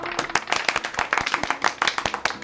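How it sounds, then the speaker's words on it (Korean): A small group claps together at a Korean online-seller talk session, quick sharp hand claps in a brisk, slightly uneven rhythm, close and lively. "박수!"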